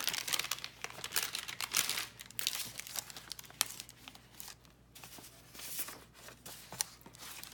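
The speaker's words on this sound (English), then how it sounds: "Let's take a piece of this tracing paper." A sheet of thin tracing paper handled up close while making journal signatures, with repeated crinkling and rustling bursts that rise and fall in irregular waves, no voice over it.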